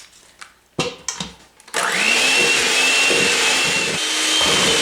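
Softened butter for cinnamon roll frosting rattles in a bowl for a moment before an electric mixer whirs up to a loud, steady high-pitched whine that carries on nearby.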